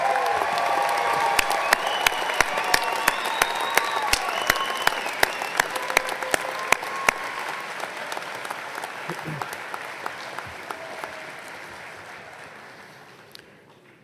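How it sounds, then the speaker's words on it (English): Applause from a large commencement audience rolls on steadily with sharp individual claps and a few voices early on, then gradually thins and fades toward the end. "let's give them another round of applause"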